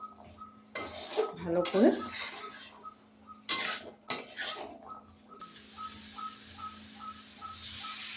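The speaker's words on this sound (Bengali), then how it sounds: "এটা আমি একটু নেড়ে নেব" Boiled kabuli chickpeas stirred in a cooking pan with a utensil, giving several bursts of scraping and clinking against the metal, then quieter intermittent taps, with brief speech partway through.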